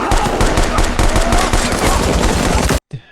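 Rapid automatic gunfire from the 2024 film Civil War rattles loudly in dense bursts, then cuts off abruptly.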